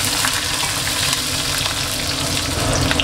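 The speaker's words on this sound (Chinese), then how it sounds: "把肉推到一边，下葱姜蒜" Scallion, ginger and garlic drop into hot oil in a wok beside fried cured pork, producing a loud, constant close-up sizzle with faint crackles and no talking.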